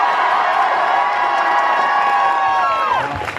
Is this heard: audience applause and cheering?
yes